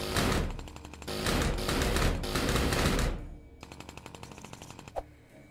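An assault rifle in the game Kill It With Fire fires in rapid automatic bursts, loud and close, with three long strings of shots and then a quieter, lighter train of quick clicks and shots.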